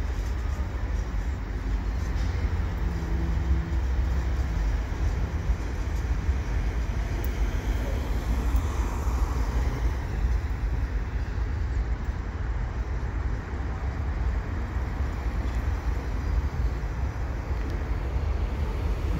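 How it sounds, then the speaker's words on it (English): An eastbound CN freight train carrying an oversize load rumbles across the Butler Street overpass in Montreal, a loud, continuous, broadband roar that holds steady for the whole stretch. "I'm here at Butler Street with an eastbound CN train"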